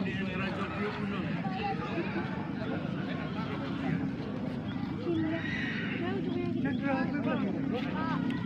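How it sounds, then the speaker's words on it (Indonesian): Horses arriving for morning training ahead of a traditional Gayo horse race whinny and neigh, with hooves clopping amid a busy crowd with voices in the background. "ini kuda semakin banyak ya berdatangan untuk berlatih pada pagi hari ini"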